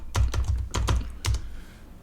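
Someone types a command on a computer keyboard, sounding as a quick run of crisp, close key clacks in small clusters with brief pauses between them.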